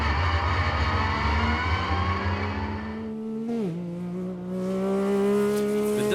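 Off-road race cars roaring at the St George 399, with a loud engine note that holds steady, dips sharply and then climbs again in pitch as a car accelerates away, dense and close throughout.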